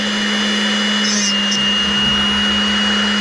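An SRD drill sharpener grinding a drill bit, a steady high electric hum with a constant whine and a few faint grinding touches, close and loud, with no talking.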